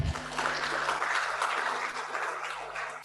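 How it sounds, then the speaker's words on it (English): Audience applause at an East African healthcare conference, a steady broadband patter of clapping from a large crowd lasting the full stretch, with a low hum underneath and no voices. "A better hand clap for Mildred."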